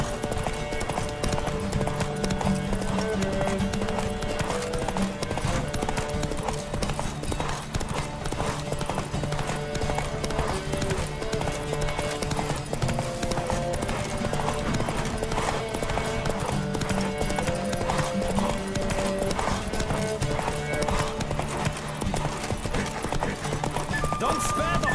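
Rhythmic hoofbeats of a horse gallop steadily beneath background music in The Witcher 3: Wild Hunt video game, with voices occasionally shouting over the pounding.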